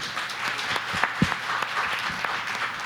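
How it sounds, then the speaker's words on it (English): Presentation audience applauding steadily, a dense wash of many hands clapping at moderate volume for the whole stretch, with a few sharper individual claps standing out. "a great round of applause"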